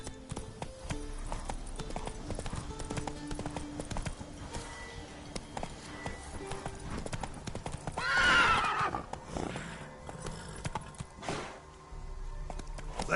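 A horse in a PS4 game gallops with continuous clip-clopping hooves and gives a loud, drawn-out whinny partway through, over busy game background noise.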